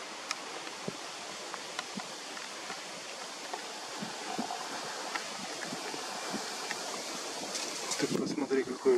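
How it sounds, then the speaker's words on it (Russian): Strong wind buffets the microphone outdoors, a steady rushing roar with gusty swells that grow louder toward the end. "Ты посмотри, какой ветрюган."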